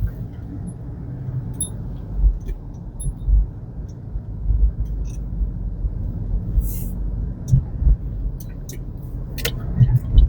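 Inside a car driving on a city street in Honolulu, a low engine and road rumble runs steadily, with light clicks and jingles of keys and cabin rattles.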